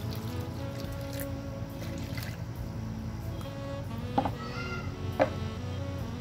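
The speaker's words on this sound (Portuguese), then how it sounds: "Tô com um potinho aqui, vou colocar um pouquinho de água no pote." Water trickles and drips as a little is poured into a small pot while preparing plaster strawberries with a silicone mold, a soft, close liquid sound alone, with two brief sharper drips near the end.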